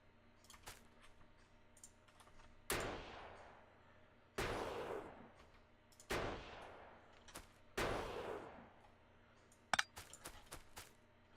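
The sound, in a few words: sniper turret firing in Factorio video game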